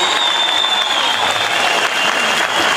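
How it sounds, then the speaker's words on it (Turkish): Loud, close applause from a concert audience in Pazaryeri, Turkey, for a singer's show, a thick wall of clapping with a faint sustained tone beneath, steady throughout. "en kocaman alkışlarımızı gönderelim"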